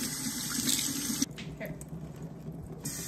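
Water runs steadily from a tap as hair is rinsed during an at-home permanent straightening treatment, a continuous close splashing hiss that carries through the whole stretch with slight shifts in flow.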